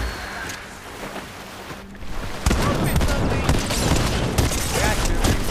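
Fortnite gunfire, dense rapid shots and impacts that grow louder halfway through and continue under friends chatting over the game.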